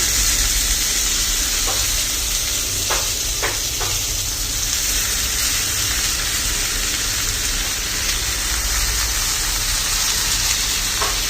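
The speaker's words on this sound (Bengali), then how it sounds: "পেঁয়াজগুলো হয়ে গেছে এখন আমি শাকগুলো দিয়ে দিই" Red amaranth greens dropped into a pan of frying onions sizzle steadily and loudly, a constant close hiss with a few brief clicks and stirring scrapes, no talking.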